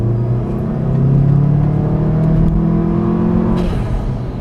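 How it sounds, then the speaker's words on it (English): A VW Golf Mk7 GTI with a COBB stage 1 tune accelerates hard in third gear, its engine droning and rising in pitch, loud and close from inside, then easing off near the end. "I'm gonna make a real quick acceleration."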